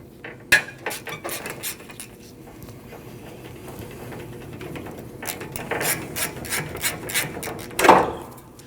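A hand ratchet works a 10 mm bolt holding the AC condenser to the radiator of a 2012–2021 Nissan NV2500, giving bursts of quick close clicks with pauses and clanks of tools between.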